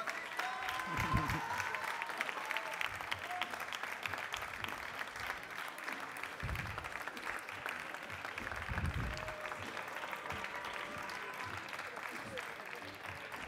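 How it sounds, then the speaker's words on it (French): Steady applause from a crowd at a barista competition in France fills the whole stretch, continuous clapping with a few louder thumps and a voice speaking French over it. "vous pouvez encore l'applaudir très fort"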